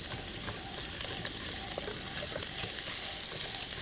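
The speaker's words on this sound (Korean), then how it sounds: "핏기를 제거한 소고기를 먼저 볶습니다." Beef being stir-fried in sesame oil in a pan: a soft, continuous sizzle with small crackles and occasional stirring scrapes, fairly quiet and close, with no talking.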